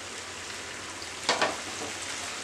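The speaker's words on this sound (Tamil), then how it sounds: "இதே பேன்ல 1 ஸ்பூன் போல எண்ணெய் சேர்த்து 3 தக்காளி கட் பண்ணி வச்சிருக்கேன், இதையும் வதக்கிக்கலாம்" Three cut tomatoes sautéing in a spoonful of oil in a pan, a constant close sizzle with a brief louder burst of stirring midway; no speech.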